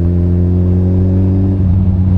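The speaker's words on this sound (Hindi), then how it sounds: "आशा है कि आपको एग्जॉस्ट साउंड अच्छी मिल रही होगी।" Suzuki Hayabusa motorcycle exhaust holding a loud, steady rumble with a deep, even engine tone and a slight shift in pitch near the end, recorded close with no talk.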